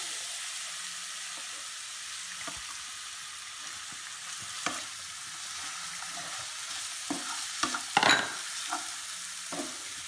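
Onions sautéing in hot oil in a pan give a steady sizzle, with scattered scrapes and knocks of a spoon stirring them and a few louder clatters near the end.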